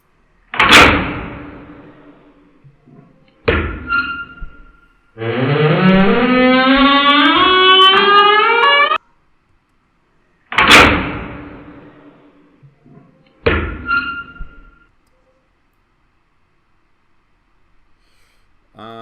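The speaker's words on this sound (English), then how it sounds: "We want iron door slamming." Heavy iron door slams ring out one at a time with long gaps between them, each a hard metallic impact that decays slowly. A grinding, rising metal scrape plays midway through, and the slams sound loud and close in a jail setting.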